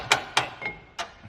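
A hammer strikes metal while a Mazda RX7 gearbox and differential are being removed, four sharp ringing blows at uneven intervals, close and loud in a quiet garage.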